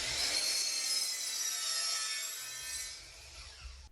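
A miter saw set at 45 degrees cuts through a scrap piece of plywood, giving a loud, continuous abrasive whine over about three seconds that fades as the blade spins down.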